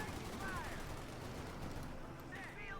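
Gatling cannon rattling from a passing half-track in the strategy game Company of Heroes 2, a faint, steady stream of rapid fire with soft whining tones at the start and end.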